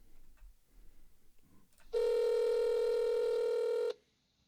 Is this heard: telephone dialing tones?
yes